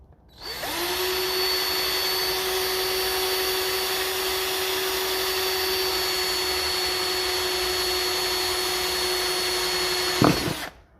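A power drill grinds steadily into the registration plate of a 1954 Ferguson 20 TEF tractor, one unbroken high motor whine for about ten seconds that stops abruptly, close and without voices.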